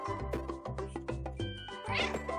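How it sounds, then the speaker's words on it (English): Game-style cat meows repeat over a bouncy musical backing, several short mews in quick succession, clear and close, with no talking. "I'm walking around meowing."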